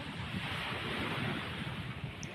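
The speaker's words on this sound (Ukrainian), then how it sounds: "Шум моря." Steady roar of sea surf rolling in continuously, with wind buffeting the microphone throughout; no voices.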